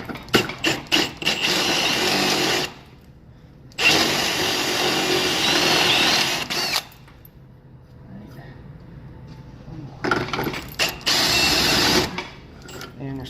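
Power drill with a step bit boring into a router jig, loud whirring bursts of several seconds separated by quiet pauses, with brief short pulses at the start.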